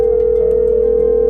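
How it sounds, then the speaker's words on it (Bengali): A steady, unbroken telephone dial tone hums loud and close, a single sustained pitch with no pauses or other sounds. "রাসেলের একটা কল দিয়ে দেখি ম্যানেজ করতে পারি কিনা।"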